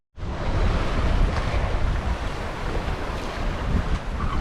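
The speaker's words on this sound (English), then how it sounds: "20 knots of wind now," Strong wind and rolling ocean swells rush past a sailboat under reefed headsail in about 20 knots off the Canary Islands, a loud continuous roar of gusts and surging water with heavy wind buffeting on the microphone.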